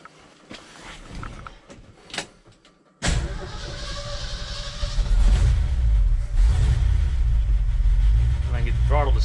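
A 1969 Ford F-250 that sat unused for 20 years cranks and then catches, its engine settling into a loud, rough, close running idle and rising as it revs. A voice is heard over the early part.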